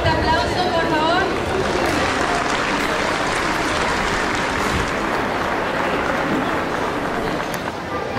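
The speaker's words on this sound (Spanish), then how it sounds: "Damos un fuerte aplauso, por favor." Sustained applause from the audience at a primary school graduation ceremony, a dense, steady wash of clapping with crowd murmur and voices mixed in throughout.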